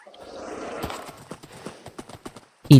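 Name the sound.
horse hooves clip-clop in Minecraft video game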